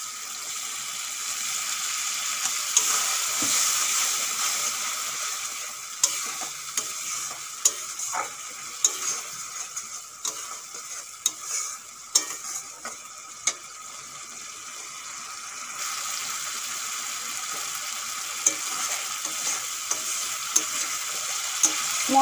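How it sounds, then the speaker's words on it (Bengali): Spices with tomato paste and a splash of water are stir-fried in a pan for a potol and prawn curry, a steady close sizzle broken by repeated scraping clicks of the spatula, with no talk. "মশলা ভালো করে কষানো হয়ে গেছে"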